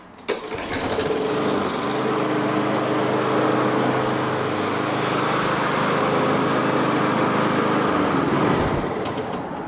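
A gas lawn mower engine catches on a pull of the starter cord and settles into a loud, steady idling drone, close by, running continuously without talk.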